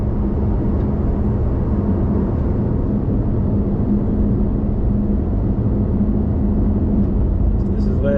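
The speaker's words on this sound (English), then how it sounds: "Avoid it. Accelerate." Aston Martin DB12 accelerating on the road, a steady, loud engine rumble and road roar held throughout, with a voice talking over it.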